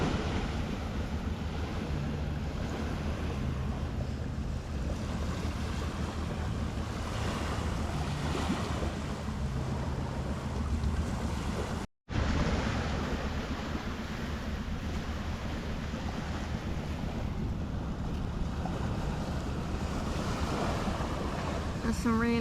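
Sea waves wash onto a beach in Thailand in a continuous broadband roar mixed with wind buffeting the microphone, loud and close, with a brief dropout midway and no talking.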